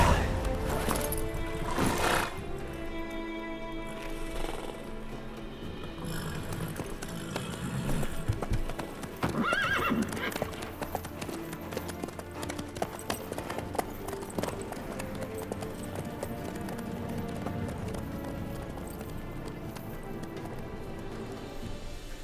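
A horse gallops with rhythmic clip-clop hoofbeats in The Witcher 3, a steady, fairly close run over a game soundtrack, with a brief whinny early on and game voices talking.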